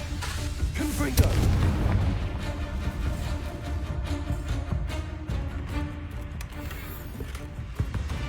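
Confringo fire spells blast during a Hogwarts Legacy duel, with loud booming bursts landing over a dense, continuous rumble of combat effects.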